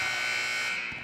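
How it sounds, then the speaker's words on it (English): A steady, loud electronic buzzer sounds in a high school basketball gym at the Hinkle Holiday Classic, Streamwood vs. Rockford Jefferson, marking the end of the first quarter. The single continuous tone lasts about a second before fading slightly. "Josiah Williams ends our first quarter of scoring with a corner 3 at the buzzer."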